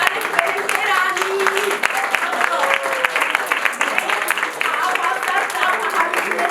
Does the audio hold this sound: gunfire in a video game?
no